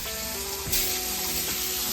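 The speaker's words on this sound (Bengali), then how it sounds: "তিন রকম ভাজা করে নিচ্ছে" Vegetables such as potato and pointed gourd frying in a pan in a home kitchen, a steady close sizzle with a brief louder crackle partway through, with no talk.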